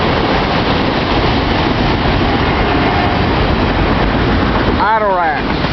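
Norfolk Southern freight train 26M led by locomotive 9355, hauling auto racks, rumbles past as a loud, continuous broadband roar, with a brief voice near the end.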